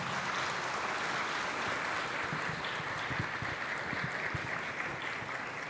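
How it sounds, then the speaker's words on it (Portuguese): A church congregation applauds a youth group during a Catholic confirmation Mass led by a bishop, a steady, fairly soft patter of many hands clapping, sustained and even. "Uma salva de palmas"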